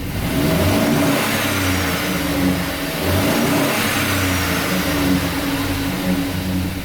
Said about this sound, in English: I just took it and revved it up.